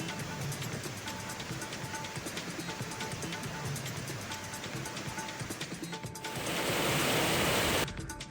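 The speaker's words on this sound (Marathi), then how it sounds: "जवळच्या धोपेश्वर मंदिराजवळील धबधबा प्रवाहित झाला." Dhopeshwar waterfall near the Dhopeshwar temple pouring at full force after heavy rain, a steady loud broadband rush that swells even louder and denser toward the end.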